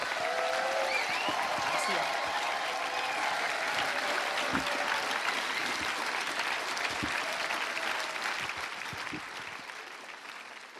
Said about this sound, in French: Là, on peut vraiment acclamer le Seigneur comme il se doit